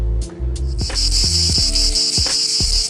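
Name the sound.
cicadas buzzing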